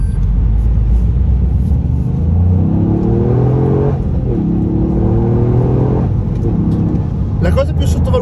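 Toyota Yaris GR with a 1.6-litre three-cylinder, 260 hp engine driving on snow, its engine rising and falling through revs in steady rumbling pulls, loud and close beneath someone speaking.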